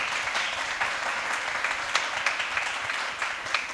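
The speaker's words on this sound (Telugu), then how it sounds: "దేవుని నామాన్ని గణపరచడానికి క్లాప్ చేయండి." A congregation claps together at a New Year church service, a dense, steady wash of many hands with a few sharper peaks, fairly close and continuous with no talk.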